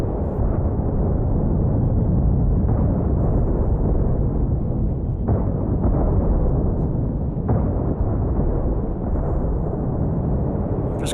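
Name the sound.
railgun barrage explosions in video game The Last Starship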